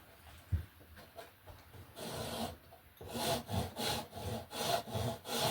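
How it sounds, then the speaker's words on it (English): A file rasps back and forth over cured filler on a scale model truck body, quiet at first, then louder and faster, with a short pause partway through. "Now I'm gonna go about sanding this stuff off."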